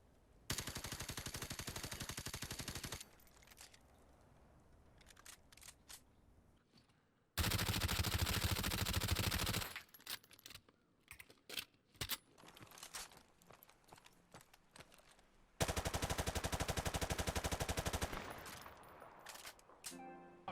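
Gunfire in the video game Call of Duty 4 on a regular multiplayer match: three dense, loud bursts of automatic fire, each lasting a few seconds, separated by stretches of quieter clatter and scattered single shots.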